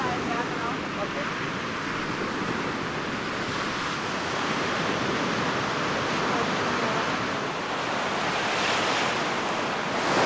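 Ocean surf at a surfing spot on the Mexican coast, with continuous broadband wave wash and wind rumble filling the whole stretch, loud and close.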